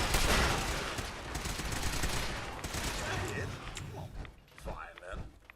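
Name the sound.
shotgun gunfire in the video game Fallout 4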